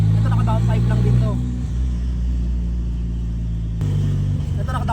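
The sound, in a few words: Mazda 323 with BPT engine swap and downpipe exhaust driving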